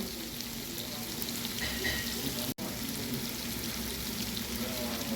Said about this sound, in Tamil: இஞ்சி பூண்டு நல்லா வதங்கிட்டு